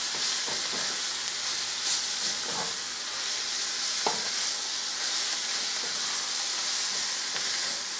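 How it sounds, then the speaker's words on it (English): Cabbage, onions and bacon stir-fried together in a pan give a steady, close sizzle and hiss, broken by occasional scrapes and stirring knocks from the utensil, with no talking. "I'm going to put my bacon and onions back in here. Okay? Get that all mixed together."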